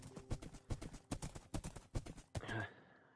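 Horse hooves clip-clop in a Minecraft video game in a steady, even rhythm of sharp knocks, followed by a brief horse whinny at the end.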